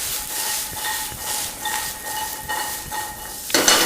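Parsnips and leeks sautéing in a pan, a steady close sizzle and hiss with faint scraping pulses, ending in a louder burst of frying.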